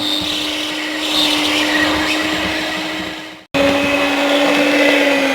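An electric mixer beats ganache chocolate cake batter with a steady, loud motor whine that cuts out briefly and starts again, running alone without talk.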